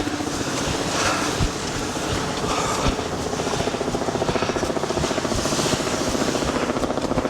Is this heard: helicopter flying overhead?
yes